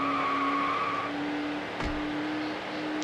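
Lamborghini Diablo 6.0 racing in Need for Speed Hot Pursuit 2, a steady engine drone with a held high-pitched whine, a brief thud near the middle, and continuous road and wind noise throughout.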